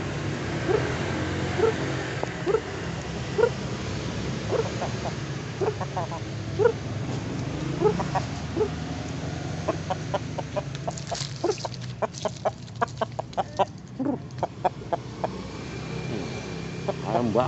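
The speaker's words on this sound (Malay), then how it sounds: "Ini ayam Bangkok aduan." A Bangkok fighting rooster clucks in short repeated bursts, nearby and fairly loud, over a steady background hum, with a dog barking and other bird calls joining toward the end.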